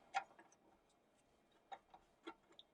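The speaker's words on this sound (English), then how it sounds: "But with a ratcheting wrench, we can place this on here" A flex-head ratcheting combination wrench clicks faintly while tightening a bolt, a few sparse, light ticks spaced irregularly in a quiet room.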